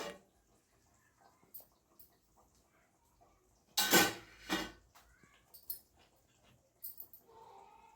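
A pot lid lifted off simmering eggplant for Chettinad-style chickpea kara kuzhambu gives one loud close metallic clank and scrape, followed by a few lighter clinks in an otherwise quiet kitchen.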